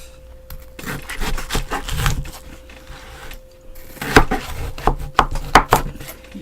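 A knife cuts through a watermelon on a board, producing close, crisp chopping thuds in two uneven bursts separated by a short pause.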